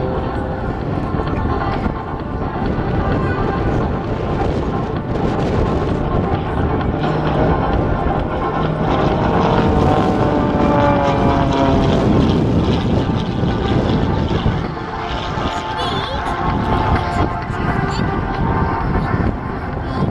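A propeller aircraft drones loudly and steadily at the RAF Cosford Air Show 2017, its engine note rising and falling as it passes, with wind buffeting the microphone and an announcer speaking over a public address throughout.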